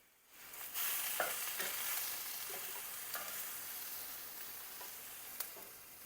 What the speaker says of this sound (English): Nice charring on that jalapeno.